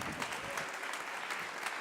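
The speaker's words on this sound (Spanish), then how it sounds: "Un aplauso para Daniela." Audience at a Nerd Nite talk night in Santiago applauds a speaker taking the stage, a steady, fairly faint patter of clapping from a modest crowd throughout.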